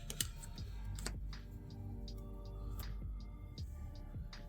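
Playing cards shuffled during a tabletop board game, a few brisk riffling clicks and ticks close by, quiet and alone with no voices.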